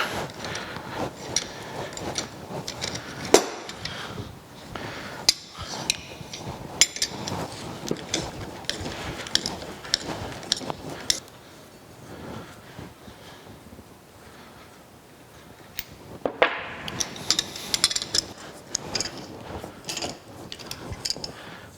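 Hardened pins are worked loose from a rusty Bison six-jaw lathe chuck with pliers, giving scattered close metallic clinks, taps and scrapes against faint background noise, with a quieter stretch midway and no talking.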